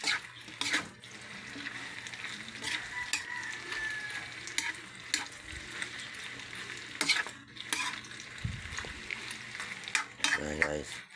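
Food frying in oil in a pan, a continuous sizzle broken by repeated clinks and scrapes of stirring utensils against the pan, close by.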